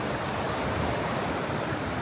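Loud, constant rushing of a mountain stream near Juta village, Georgia, a dense wash of water noise filling the whole moment without pause.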